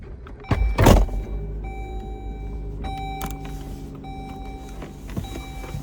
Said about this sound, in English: Let me start this car.